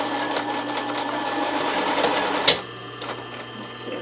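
Sewing machine stitching fold-over elastic onto a sports bra, a steady fast whirring run for about two and a half seconds that ends in a click, followed by quieter handling noises.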